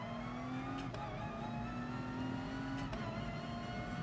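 A race car engine in the video game GT Sport drones steadily at high revs, with a thin whine rising and dropping through two gear changes, continuous and moderately loud without any talking.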